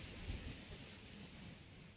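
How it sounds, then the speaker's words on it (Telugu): Faint, distant thunder rumbles low beneath a constant rushing of strong wind with no rain, with a slight swell near the beginning. "ఇప్పుడైతే మొత్తం ఉరుములు ఉరుముతూ ఉన్నాయి."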